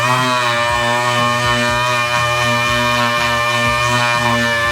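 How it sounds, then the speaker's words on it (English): Power grinding of a plastic OEM front lip spoiler from an Acura Integra Type-R with 80-grit abrasive: a loud, sustained whining motor tone with rhythmic dips as the tool bears into the surface, close up and continuous. "we can grind it just a little bit and we can make it smooth"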